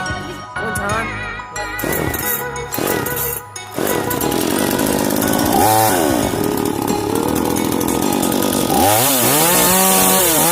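An Extreme Power US chainsaw is pulled several times with choppy sputters, then catches and runs loud and close in a steady buzzing idle. Near the end it revs up briefly.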